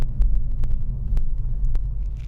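A deep, steady engine rumble from a Lexus GS430's exhaust, low and throaty, with faint clicks over the continuous drone.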